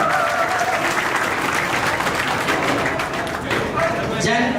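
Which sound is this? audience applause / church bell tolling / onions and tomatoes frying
audience applause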